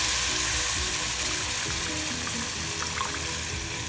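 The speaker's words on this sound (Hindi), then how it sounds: "जो राई है वो भी फटकने लग गई हैं, इट मीन्स राई जो है पक रही हैं।" Mustard seeds crackle and sizzle steadily in hot oil in a pan while upma is being cooked, a continuous close frying hiss with faint pops, and no talk.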